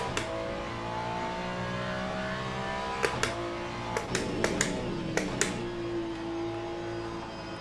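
A GT3 race car in a racing simulator game drones and revs with a steady, tonal engine note, punctuated by several sharp clicks and taps mid-run.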